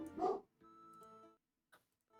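A dog outdoors gives a few faint, high, whining yips and whimpers with short pauses between them, heard from a distance.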